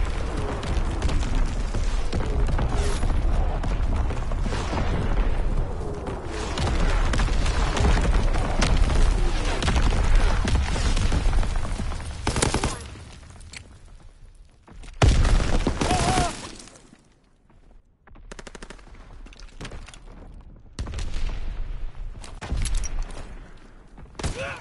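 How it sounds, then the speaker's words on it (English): Enemy artillery explosions in a video game: a long rumbling barrage of heavy blasts and debris, loud and sustained, then easing into scattered booms and quieter stretches. "Incoming enemy artillery."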